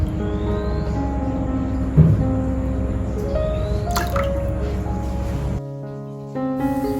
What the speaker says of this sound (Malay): ok saya kacau-kacau air kapur ni dulu